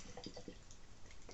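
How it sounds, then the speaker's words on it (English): San Miguel beer poured from a can into a glass, a short run of soft liquid drips and splashes, quiet and close, with no talking. "I'll pour a second can."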